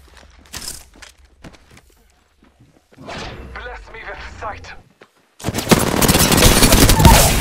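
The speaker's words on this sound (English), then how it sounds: "They're firing on me." Video game gunfire from enemy combatants, sparse shots and thuds at first, then a loud sustained burst of rapid fire near the end, with a voice speaking over the quieter middle stretch.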